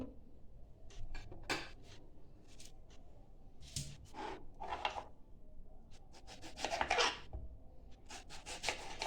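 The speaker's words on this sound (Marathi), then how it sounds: "टॅमॅटो आहे ना आपल्याला असा बारीक कापून घ्यायचा" A knife chops tomatoes finely on a board for a bhel snack, giving quick irregular clusters of soft taps and scraping strokes, close and fairly quiet, with no speech.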